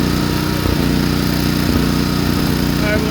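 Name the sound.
Onan generator engine running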